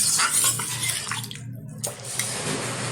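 Water pouring into a pot while cooking a sea-fish curry with broccoli and potato, a steady splashing rush that briefly breaks off midway and then carries on close by.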